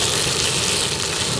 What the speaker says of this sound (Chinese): 鱼肉先给它下锅煎一下，